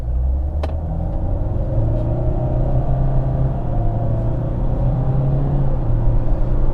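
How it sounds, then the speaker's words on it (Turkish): Nissan X-Trail 1.6 dCi diesel SUV engine pulling hard at full throttle, a steady loud droning rumble with rising tone as it accelerates, heard from inside the car without talk. "Dip gaz yaptım şimdi."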